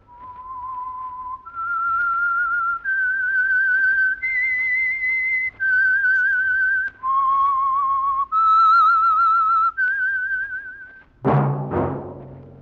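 A single person whistles a slow, sustained melody of held notes, followed by a couple of sharp, loud hits at the end.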